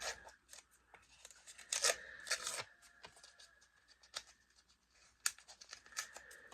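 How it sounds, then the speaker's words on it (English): Paper packaging around a Hydro Stick primer ripped open by hand during a beauty box unboxing, giving several short, crisp tearing bursts close up with pauses between them. "Okay, it's paper, it rips."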